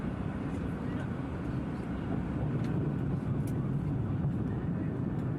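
An airplane passes overhead with gear down, a steady broad roar of jet or engine noise holding constant throughout, moderately distant and without talk over it.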